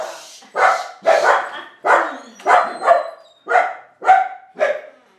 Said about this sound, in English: We have someone arriving at the door, and there's the barking I was telling you